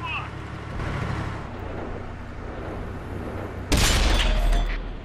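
A tank cannon fires in World of Tanks on Xbox One, aimed at a T-34-2: one sudden loud, heavy blast cuts in near the end over steady engine rumble and battle noise, then rings out briefly.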